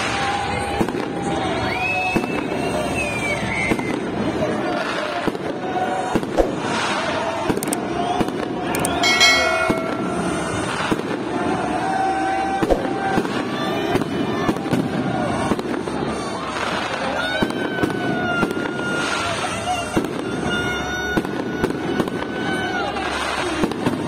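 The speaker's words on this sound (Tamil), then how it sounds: "சரியா மணி 12 அண்ட் ஃபயர் ஒர்க் ஸ்டார்ட் ஆயிடுச்சு." Fireworks at midnight on New Year in Mexico crackle and bang continuously at a distance, while a crowd cheers and children shout, with people talking throughout.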